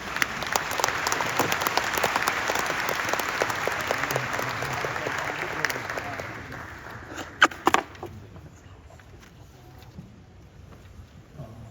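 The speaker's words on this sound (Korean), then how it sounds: "여러분 큰 박수로 환영해 주시기를 바랍니다" Applause from a seated audience at a Korean Presbyterian prayer gathering greets a professor coming up to lecture, dense and steady for about six seconds before thinning to scattered claps and fading.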